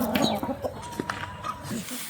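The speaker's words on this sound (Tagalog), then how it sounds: "ang daming alagang manok" Chickens cluck nearby in short, irregular bursts, several soft calls overlapping at close range amid light background noise.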